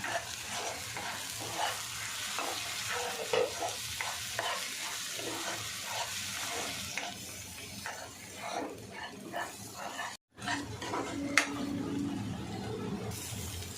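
Egg bhurji frying in a pan while a spoon stirs and breaks it up, giving a steady close sizzle with repeated scraping strokes, a brief break near the end, then lighter frying with a few clinks.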